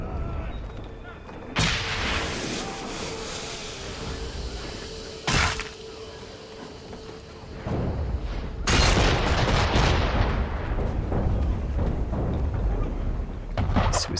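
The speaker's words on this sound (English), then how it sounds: "let's throw a smoke bomb here" A smoke bomb thrown in Assassin's Creed III: sharp broadband bursts at intervals, then a loud, sustained rushing hiss that carries on to the end amid other game sound.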